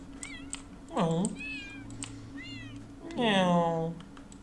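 A lynx cub in the video game Paws gives a few high, wavering meows, one loud drawn-out cry near the start and another near the end, with softer chirping calls between, close and over a low hum.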